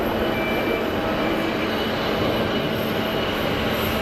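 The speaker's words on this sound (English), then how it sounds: "easyJet on the roll." An easyJet Airbus A320ceo on its takeoff roll at Geneva Airport, bound for Cagliari, gives off a loud, steady, dense roar of engines that stays constant and close throughout.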